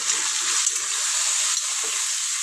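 Chicken curry with turmeric and chili powder being stirred in a hot pan, a steady close sizzling hiss with soft scraping stirs underneath and no speech.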